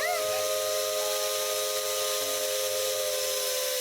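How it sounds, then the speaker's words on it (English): In a video game, a steam locomotive whistle sounds with steady tonal lines while the blower valve releases a constant, broad steam hiss, unbroken and even throughout. "The roaring steam whistle pitches as the blower valve opens."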